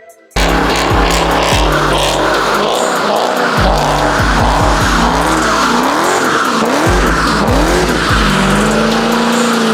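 A car engine roars loudly and continuously as tires screech and squeal in long wavering bursts, revving up and down throughout.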